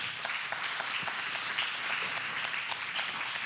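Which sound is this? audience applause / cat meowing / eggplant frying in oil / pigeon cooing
audience applause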